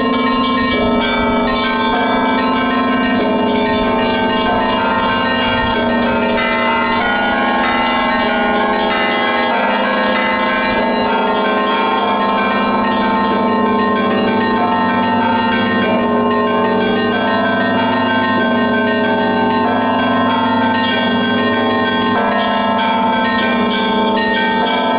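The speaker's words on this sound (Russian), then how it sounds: "У нас звук колокола, он поющий, играющий, он славящий Бога." Cathedral church bells ring steadily and loudly for about twenty-five seconds, a dense sustained wash of overlapping bell tones with no talking.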